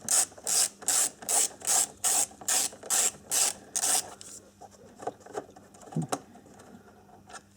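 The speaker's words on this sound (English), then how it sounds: "so just undo that with your size 8 socket" Socket wrench undoing a size 8 bolt under the dash of an Audi A4, eight loud evenly spaced ratcheting bursts close up, followed by quieter fumbling clicks and a small knock.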